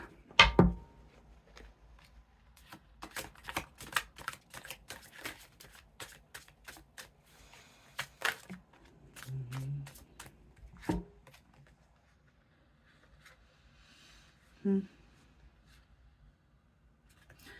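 Tarot cards shuffled by hand during a horoscope reading, a quick run of crisp riffling flutters and soft taps, close and fairly quiet, with a few louder card slaps and pauses between bursts.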